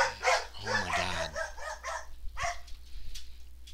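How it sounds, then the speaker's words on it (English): Several dogs bark and yip in quick overlapping bursts at moderate distance, mixed with whimpering, the barking thinning out toward the end. "Is that the barking of dogs I hear?"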